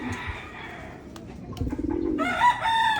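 Low, rolling pigeon coos close by, a soft throaty warble, followed by brighter chirping from other birds.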